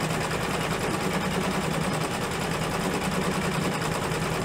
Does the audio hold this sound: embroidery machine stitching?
yes